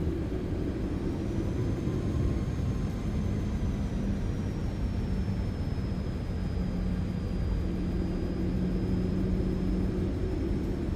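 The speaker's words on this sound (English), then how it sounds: "Oh, listen, the spool up is so much better." Boeing 737 engines spool up for takeoff in a PMDG flight simulator game, a rumbling jet roar holding steady with a thin rising then slowly falling whine above it, no voices.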